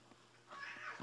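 A cat in a horror video game meows faintly with a drawn-out, wavering cry that rises midway and trails off over low background hum.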